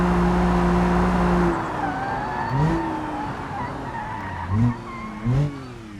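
Tires squeal in brief bursts as a 416-horsepower RLS Season 2 race car on the Nordschleife brakes downhill in a racing video game, a few sharp chirps over a steady engine drone.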